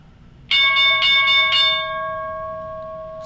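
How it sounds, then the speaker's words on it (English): A stock market opening bell rings out in a quick burst of several loud metallic strikes, then its clear tone hangs and slowly fades away. "I'll wait for the market bell to sound off in 5 seconds."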